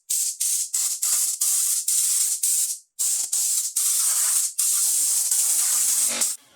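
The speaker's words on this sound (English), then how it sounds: "I'm going to go ahead and spray it with some compressed air." Compressed air blasts wood chips out of a Craftsman benchtop planer in loud, close hissing bursts, short spurts giving way to a longer continuous spray before cutting off.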